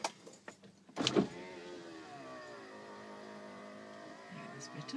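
A car's electric power window opens with a steady whirring motor hum lasting several seconds, preceded by a brief click and rustle, heard up close inside the vehicle on a hot day.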